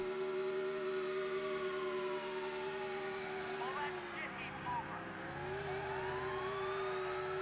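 Siren in GTA III wailing with a steady rising and falling tone over a running vehicle engine, fairly loud and continuous, with someone talking over it.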